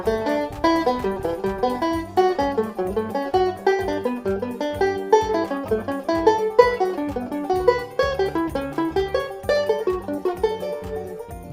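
A banjo plays the reverse of the third nine-note scale exercise as a steady run of bright plucked notes that sounds close and clear, with no voice.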